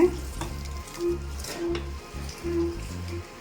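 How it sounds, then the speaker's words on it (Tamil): A dish is tempered and stirred in a pan, with brief sizzling and spoon scrapes under a loud, repeating electronic hum or buzz that pulses throughout. "இதை நல்லா தாளித்து விட்டுட்டு நல்லா மிக்ஸ் பண்ணி விட்டுக்கோங்க"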